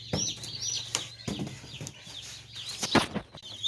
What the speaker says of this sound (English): pop open the lid of this brooder and just show you guys chickies inside.